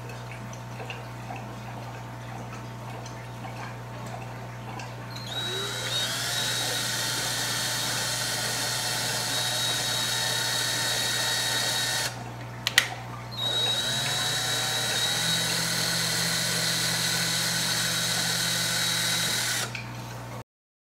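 A power drill fitted with a pipe-thread bit whines steadily at close range, driving forward slowly, then pauses briefly before running again in reverse, with a steady hum underneath and no talking.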